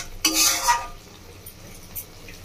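A spoon scrapes loudly through bhindi masala curry with spices in a pan, Bengali village-style cooking, in one short stirring stroke, followed by faint clinks against the pan.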